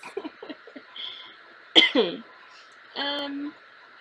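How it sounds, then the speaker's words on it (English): A few short throaty coughs from sinus drainage and a throat clear, followed by a brief higher vocal sound, close and fairly loud in a quiet room. "So I apologize for the coughing."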